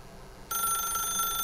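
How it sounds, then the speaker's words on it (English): Old-style telephone bell ringing in the video game The Stanley Parable, starting abruptly and continuing as a steady, bright trill over a quiet background. "Ich lasse es jetzt mal klingeln"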